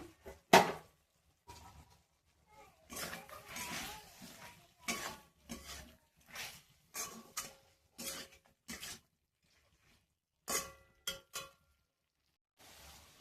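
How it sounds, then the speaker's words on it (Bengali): Chicken with carrot and papaya cooks in a covered pan over low heat, oil-free, with intermittent clinks and scrapes of a utensil against the pan and short gaps of near silence between bursts, no talking. "চিকেনটা কষতে কষতে এর মধ্যে আমি একটু গাজর আর পেঁপে দিয়ে দিলাম।"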